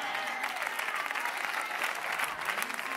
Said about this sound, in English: If I were you, I'll be clapping my hands.